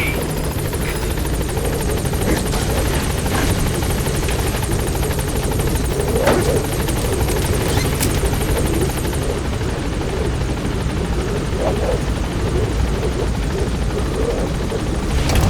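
The Pequod helicopter in Metal Gear Solid V sets down at a landing zone, its loud continuous rotor roar steady and close with a high whine running through it throughout.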